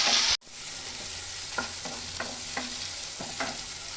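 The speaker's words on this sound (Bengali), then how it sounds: "আমি এখন টমেটোটা দিয়ে দিব। টমেটোটা দিয়ে আরেকটু ভেজে নেব।" Onion, green chilli, ginger, garlic and tomato frying together in a pan as a masala for palak paneer, a close, steady sizzle broken by several distinct scraping stirs at roughly even intervals, with no talking.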